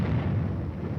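Air bursts fired by a battalion of 105mm howitzers, heard as a deep continuous rumbling roar of distant artillery, loud and sustained throughout without clear separate blasts.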